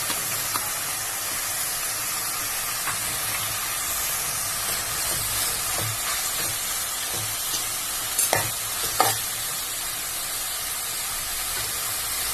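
Cumin and coriander powder stirred into frying quail gravy in a pan: a dense, steady sizzle with faint stirring scrapes and a couple of louder clanks near the end.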